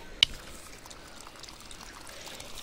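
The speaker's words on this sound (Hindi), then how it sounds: "बैंगन मिर्च और फ्रांस बीन वगैरह को पानी दूंगी।" Water trickles and pours steadily onto eggplant, chili and French bean plants in a village vegetable garden in Himachal, soft and close after a brief sharp knock.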